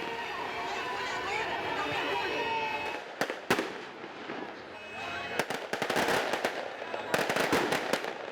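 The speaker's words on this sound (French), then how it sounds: "Chants, musique et pétards sont évidemment de la partie." Firecrackers pop in sharp, loud bursts and rapid crackling volleys during a fishermen's procession of decorated boats near Rio de Janeiro, rising over crowd chatter and music.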